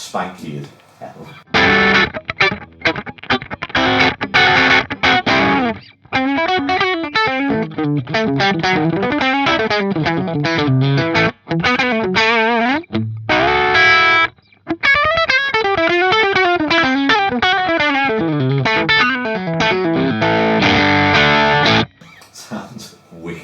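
Electric guitar played through a Laney mid-focused boost pedal, giving a loud, gritty, driven tone with chord stabs and fast melodic runs, broken by a few short pauses, with no talk over the playing.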